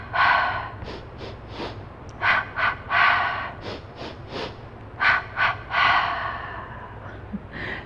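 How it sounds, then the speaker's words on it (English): Breathwork exercise of quick sharp nasal inhales followed by mouth exhales, about a dozen close, loud breath bursts in short clustered groups with brief pauses between, no talking. "And so a really good way to do that is 3 quick inhales in and 3 quick inhales out."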